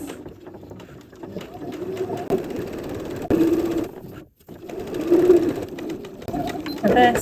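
A domestic sewing machine stitches forwards along a fabric seam, its motor whirring in a steady mechanical run with brief dips and restarts.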